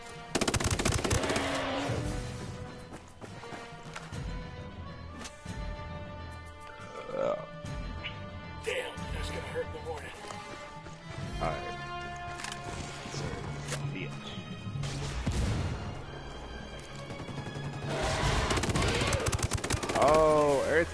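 Automatic and single-shot gunfire rattles through a firefight in Ghost Recon Wildlands, with bursts of rapid shots and sniper fire amid game noise and music, while players talk excitedly over it.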